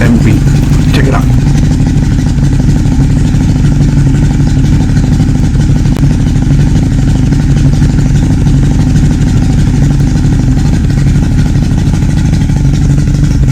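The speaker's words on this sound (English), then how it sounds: "Listen as I pull number 2 off and number 3. The motor will not change. It'll stay at the same idle and beat." A Yamaha HPDI outboard motor idles with its spark plug wires being pulled, giving a loud, steady low rumble that holds the same beat throughout, with no change in pitch.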